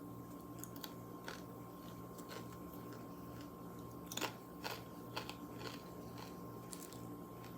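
Pan-fried rutabaga bitten and chewed close up, a few soft crunchy bites scattered over a steady low hum, with no talking.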